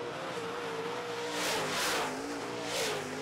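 Late model race cars in a heat at a racetrack, engines roaring loudly as they pass one after another, each one swelling and fading against a constant engine drone.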